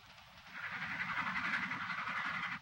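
Passenger train rolling along the rails, heard from inside a carriage in a 1946 setting: a steady broad rumble and hiss that swells slightly and holds, with no talk over it.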